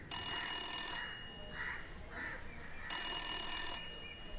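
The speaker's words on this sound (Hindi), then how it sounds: "देर से फोन बज रहा था।" A telephone bell rings in two sharp, loud bursts separated by a pause, with quieter murmuring sounds in between.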